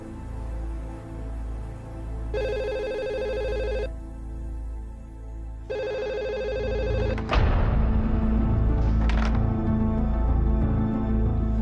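A landline telephone rings in two electronic bursts separated by a short pause, fairly loud indoors, followed by a clatter as the line cuts off.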